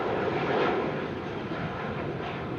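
An airliner takes off from runway 27R at London Heathrow, its engines giving a steady, loud broadband roar that swells slightly early on and holds without a break or any voices.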